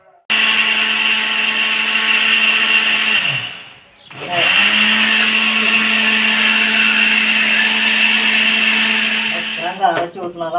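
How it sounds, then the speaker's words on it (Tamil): A mixer grinder whirs loudly and steadily while grinding wet masala with green chillies, stops briefly partway, then restarts and runs on before cutting off near the end. "இதெல்லாம் அரைச்சி ஊற்றிக்குவோம்"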